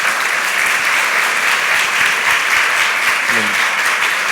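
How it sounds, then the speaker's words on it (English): Steady, dense audience applause fills the hall after a lecture, a continuous wash of many hands clapping at even loudness with no voices over it. "And please, let's give a round of applause to Dan."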